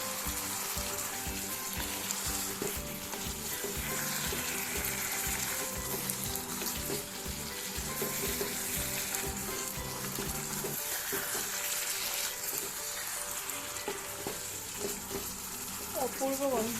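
Marinated chicken sizzles and fries in a pan over a high flame for Goan-style chicken vindaloo, a continuous close crackle with stirring scrapes throughout.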